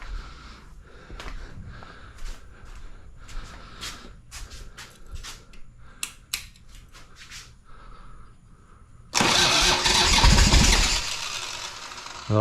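A Harley-Davidson Sportster motorcycle is cranked with repeated mechanical clicks and turning-over bursts, then the engine catches and roars loudly for a few seconds before cutting off, with no talking.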